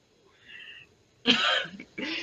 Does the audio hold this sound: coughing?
yes